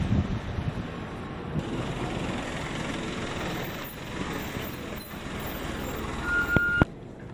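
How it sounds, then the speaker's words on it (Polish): Driving school minibus in Japan approaching and pulling up on a street, a steady engine and road rumble building with a faint high beeping near the end and a brief sharp mechanical click as it stops. "autobus już jedzie"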